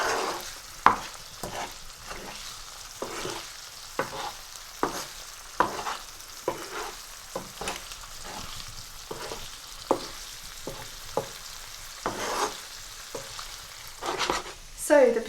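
Punjabi achari potatoes fry in a pan while a spoon stirs them, giving a low steady sizzle broken by repeated scraping strokes and clanks at an irregular rhythm, up close with no talking.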